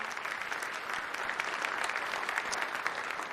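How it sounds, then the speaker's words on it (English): Steady applause from an audience at a State of the City address, dense clapping sustained evenly throughout at moderate level with no talk over it. "we can give her a round of applause"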